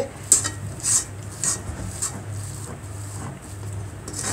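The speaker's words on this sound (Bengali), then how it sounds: "নাড়তে নাড়তে শুকায় গেলে উনি চেপে চেপে এটাকে মিলাই নিচ্ছে" Chhena for laddu being pressed and mixed in a pan over a stove, soft repeated scraping and rubbing of a spatula against metal, with faint clinks at a steady pace beneath a low hum.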